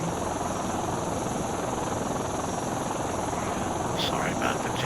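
A video game helicopter's steady whirring drone fills the scene continuously, loud and close, with a few brief tonal blips near the end.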